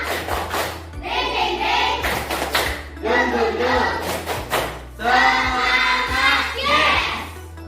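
A class group performing a rhythmic spirit clap in unison, repeated bursts of clapping with sharp beats and chanting voices between them, close and lively.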